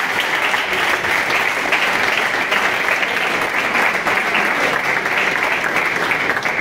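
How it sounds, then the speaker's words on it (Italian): A crowd at a football club's season inauguration gives sustained applause for SD Heraclea Calcio, dense and even clapping throughout. "Io direi di fare subito un applauso a questa società."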